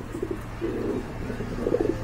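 Pigeons for sale at a market coo softly nearby in a few short, low bursts over a quiet background hum.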